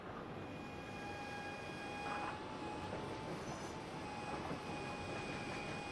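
Class 90 sleeper train running from Carlisle to Glasgow on the West Coast Main Line in Train Simulator Classic, giving a continuous rumbling rail roar with faint steady whines over it.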